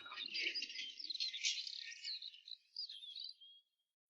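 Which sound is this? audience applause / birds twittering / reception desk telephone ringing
birds twittering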